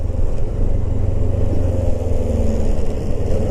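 A 2008 Kawasaki ER6f (EX650/Ninja 650) parallel-twin runs close by with a loud, steady low engine drone, with a buzzing rattle from its loose fairing mixed into the sound.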